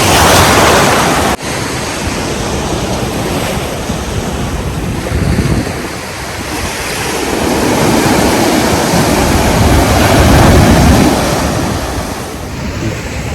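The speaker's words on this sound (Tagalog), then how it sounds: "Kasi malakas na yung alon doon." Loud, continuous roar of strong ocean waves crashing and surging at Camara Island, Zambales, Philippines, with heavy wind buffeting the microphone throughout.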